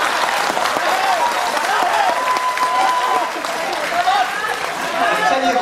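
A comedy show crowd claps and cheers in a lively, continuous burst, loud and close, while a voice rises over the clapping at times.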